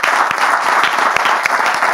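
Loud, sustained audience applause, a thick wash of many hands clapping throughout, at a broadcast program honoring a pastor.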